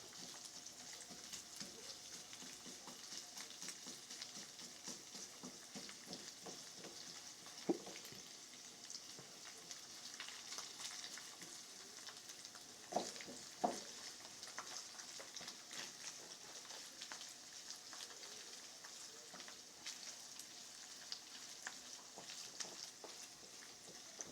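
Hamburger meat browning in a pan for a low-sodium taco stir fry gives a steady, moderate sizzle throughout, with a few brief clicks and scrapes of stirring and no talk.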